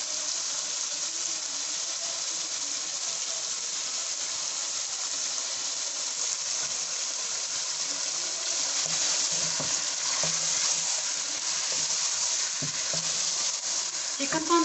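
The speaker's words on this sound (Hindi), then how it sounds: "चिकन को हम थोड़ा तब तक भूनेंगे जब तक हमारा चिकन ये वाइट ना हो जाए।" Chicken frying and being stirred in a pan for achari chicken, a steady close sizzle and hiss running throughout with spoon scrapes and stirring clatter, no talking.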